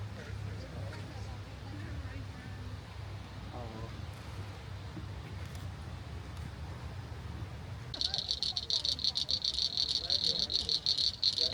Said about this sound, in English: Oh, it's whatever this little thing is, this bug.